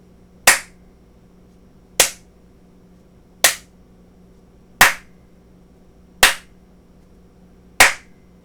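Six sharp hand claps near an Arduino sound sensor module with an LED, evenly spaced about a second and a half apart in a quiet room, each one crisp and loud over a faint electrical hum.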